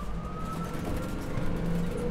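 Ambulance siren wails with a steady wavering tone heard faintly through continuous road and engine rumble, as if from inside or close to the moving vehicle.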